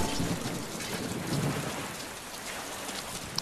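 Heavy rain pours steadily in Deadpool, a dense, loud hiss of drops with faint low thunder rumbling underneath throughout.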